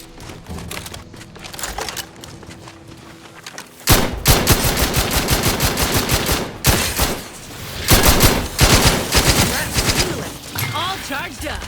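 Rapid bursts of gunfire from the video game The Outer Worlds 2, loud repeated volleys and single shots in close succession, mixed with game sound effects and a voice speaking.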